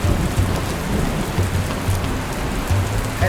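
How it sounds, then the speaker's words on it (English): Heavy rain pours in the video game Dustland Delivery, a dense steady downpour with low rumbles of thunder rolling underneath, loud and continuous throughout. "That is a lot of rain."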